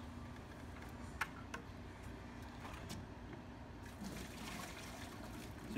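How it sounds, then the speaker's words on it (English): Gallons of water are poured into a Graco texture sprayer pump ahead of a Tuff Coat application, a soft, steady trickle with a few sharp clicks and knocks mixed in. "So you dump in 3 or 4 gallons of water."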